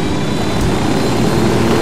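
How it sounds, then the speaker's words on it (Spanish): A purple helicopter in the video game Ghost Recon Wildlands gives a loud, steady rotor and engine drone that holds unbroken with no voices. "un helicóptero lila"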